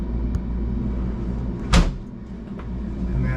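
A drawer in a 2022 Newell Coach 1730 RV interior slides and shuts with one sharp thud near the middle, over a low rumbling background, with no talking.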